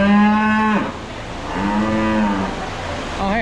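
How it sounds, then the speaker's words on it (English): Cattle lowing inside a fair barn: two long, loud moos close by, one after another with a short pause between, and a third call just starting at the end. "Yep, these are my boss's cows."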